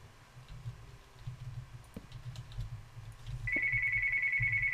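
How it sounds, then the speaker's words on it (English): A phone ringing during a Minecraft gameplay session: a steady electronic ringtone tone starts partway in over faint keyboard and mouse clicking and low game noise, continuing to the end. "there's another freaking phone call"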